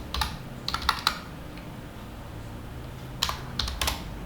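Keys tapped on a computer keyboard in two short clusters of quick, crisp clicks separated by a quiet pause, close and fairly loud, with no talking.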